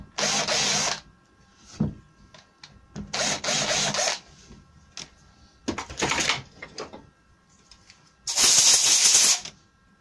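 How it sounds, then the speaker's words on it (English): A small drill whirs in several short bursts with quiet pauses between them, boring little holes in wood for a porch canopy bracket, close and loud, with light clicks of handling. "I'm going to drill some little holes that help the filler stick to it."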